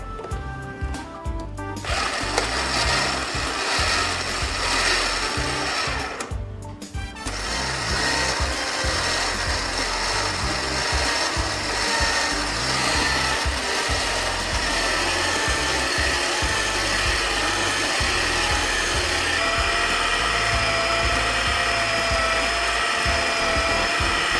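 A yellow noodle-making machine runs steadily with a loud, continuous mechanical whir and rattle, including a built-in drying fan, broken by two brief pauses early on before resuming without voices.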